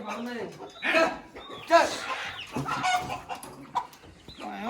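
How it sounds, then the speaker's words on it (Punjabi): Rooster clucks and crows mingle with a crowd of people talking nearby at the Sri Muktsar Sahib horse fair, the bird calls breaking through the chatter several times. "ਕੁੱਕੜ ਇਹਨੂੰ ਵੀ ਲੈ ਕੇ ਆ ਰਹੇ ਆ ਜੀ"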